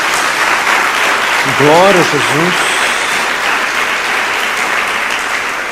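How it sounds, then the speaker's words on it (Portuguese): Church congregation clapping in praise during a Portuguese-language sermon, a steady wash of applause throughout while a voice briefly calls out over it. "Dê uma salva de palmas ao Senhor."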